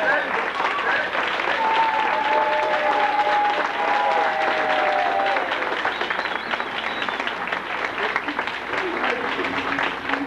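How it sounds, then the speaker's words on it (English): Sustained applause from a large crowd at an athletic banquet fills the space, dense steady clapping with a few voices calling out over it. "give a round of applause to the track team"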